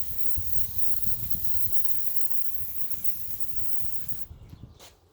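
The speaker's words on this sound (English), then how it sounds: "Spray it down." Cleaner is sprayed onto a car engine in a continuous close hiss lasting about four seconds, then stopping, followed by a couple of faint handling sounds.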